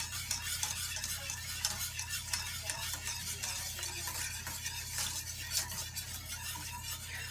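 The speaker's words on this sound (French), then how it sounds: "Pour remuer pour pas que le lait colle et qu'il brûle au fond" Milk for crème pâtissière stirred in a saucepan to keep it from sticking and scorching, giving a continuous soft scraping and swishing with light clinks, close and fairly quiet over a low background hum.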